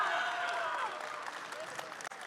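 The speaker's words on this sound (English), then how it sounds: "give a big round of applause for all of our top 3 players" Applause from the audience at a card game tournament in Dallas, honoring the top three players, a dense steady clatter of many hands with some cheering, fading slightly toward the end.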